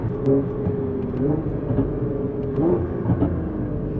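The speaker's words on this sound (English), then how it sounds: "this exhaust is going to change the landscape because it gives you the best, most exotic sound" A Nissan GT-R R35's titanium aftermarket exhaust burbles and growls steadily at low revs, with a few small rises in pitch as the engine is blipped.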